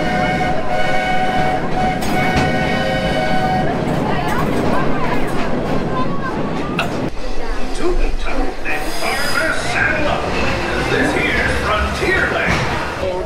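A Magic Kingdom theme-park train, heard as a loud continuous rumble of rolling cars and wheels with some squealing, close and steady throughout, mixed with crowd noise.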